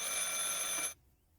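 Telephone ringing in the horror game Martha is Dead, a steady bright electronic ring that holds for about a second and then cuts off to near silence.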